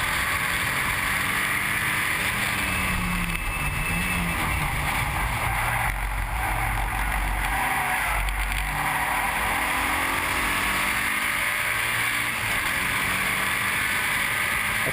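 A Mitsubishi Evo 9 race car drives on a circuit, its engine droning steadily under broad wind and track noise, with a couple of louder swells as it accelerates and passes.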